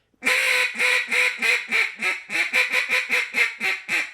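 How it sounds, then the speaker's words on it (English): A duck call blown low with an open throat and hot air gives a loud, close run of about a dozen rhythmic quacks, each a raspy, reedy honk in a steady chattering cadence. "you want to have a real open throat, hot air, and just blow low duck"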